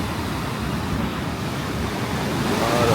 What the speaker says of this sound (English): right here in front of us got all these stones, the water rushing up on.